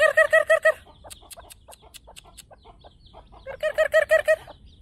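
Chickens released outdoors cluck in bursts, a rapid run of loud rhythmic clucks at the start and again near the end, with quieter scattered clucks and pecking between.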